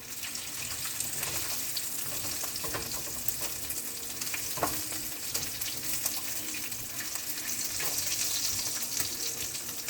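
Bacon fries in a hot pan in a home kitchen, a loud continuous sizzle and spatter with dense crackling that holds steady throughout; no talking.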